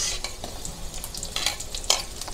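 Onion tossed into a pan of browning garlic and frying for a spicy adobo, a bright sizzle broken by a few scraping stirs of a utensil, close and fairly loud with no voices.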